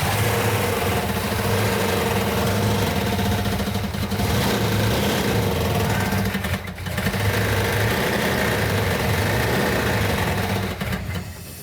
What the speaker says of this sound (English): The engine is making a metallic knocking sound.